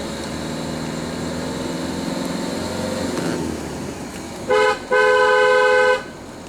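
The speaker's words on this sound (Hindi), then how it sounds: "You have to keep on honking at turns because you never know." A car horn on a winding mountain road to Lohagad and Visapur forts near Lonavala, from a Maruti S-Cross, sounds two loud honks, a short one then a longer one, over steady engine and cabin noise.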